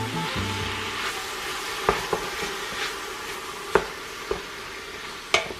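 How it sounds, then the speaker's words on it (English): Food browns in a hot pan for a winter soup, giving a continuous close sizzle broken by a few sharp clicks and taps from stirring. "We're gonna let this brown up a little bit"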